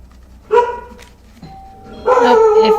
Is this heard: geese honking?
no